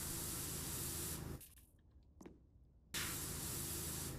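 Pressure washer spraying in PowerWash Simulator 2, a loud broad hiss that cuts out for about a second and a half with a brief burst in the gap, then resumes at full strength.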